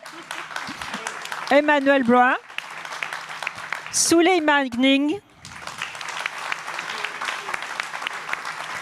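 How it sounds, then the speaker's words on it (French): Applause at a French alumni association general assembly as elected committee members are named one by one, a broad steady clapping wash running under a voice reading out names. "Vous pouvez les applaudir un par un comme vous voulez."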